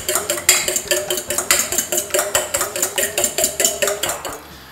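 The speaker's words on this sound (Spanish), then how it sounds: "Vamos a batirlo" A fork or whisk beats an egg in a bowl for a fried-squid batter: quick, steady clinking strokes against the bowl, close and bright, about twenty in a row before stopping near the end.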